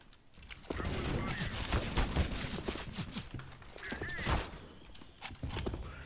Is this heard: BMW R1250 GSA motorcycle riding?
no